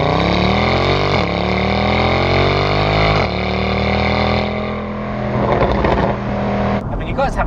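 A Mercedes SL63 engine pulls strongly while driving, a loud, rich droning note that climbs steadily in pitch through each gear with brief dips at the shifts near 1 and 3 seconds, ending in rougher, noisier tones.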